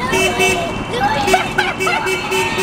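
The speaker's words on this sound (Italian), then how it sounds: "Senti del clacson!" Car horns honk in steady tones over busy Rome street traffic near the Trevi Fountain, with a crowd chattering nearby.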